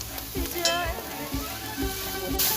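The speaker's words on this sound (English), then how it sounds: "Sizzle, sizzle." Onions hit shimmering hot oil in a pan for Ghormeh Sabzi and sizzle steadily and close up, with stirring scrapes breaking in every second or so.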